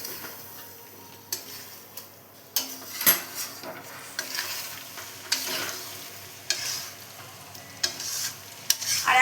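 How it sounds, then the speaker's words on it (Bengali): Chicken for pulao stir-fried in a pan, a crackling sizzle broken by repeated scrapes and clanks of a spatula against the metal, irregular and close, with no talk. "তো আমি চিকেনটা কষতে থাকি, এভাবে চিকেনটা আস্তে আস্তে কষতে কষতে ঢাকা দিয়ে কষবো।"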